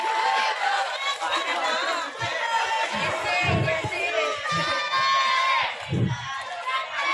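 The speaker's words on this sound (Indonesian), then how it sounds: "Beri aplaus dulu dong untuk tingkat 4." A school audience of Islamic boarding-school students at a short-story contest applauds and cheers for the level 4 group, a dense, loud crowd of shouting and clapping voices that holds steady throughout.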